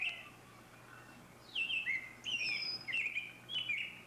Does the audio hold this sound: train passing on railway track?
no